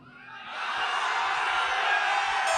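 A large audience raises a loud, sustained collective shout of cheering that swells over the first half-second and then holds steady at full volume to the end, with no individual voice standing out.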